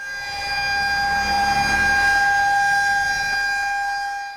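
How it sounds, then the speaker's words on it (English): A loud, steady tornado warning siren drones continuously on a sustained tone, with no voices. "When that siren's going off, there's a danger coming."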